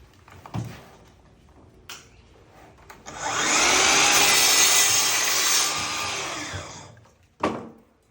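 Festool Kapex KSC 60 miter saw cutting wood at a miter saw station, a few clicks and handling knocks, then a loud, close whining cut lasting about three seconds that winds down, followed by a thump.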